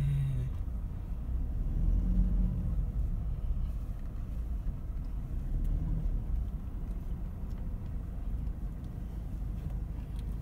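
A car engine with a rough, uneven running note while reversing, a steady low rumble that swells slightly around the second and sixth seconds and holds throughout, close and fairly quiet with no talking.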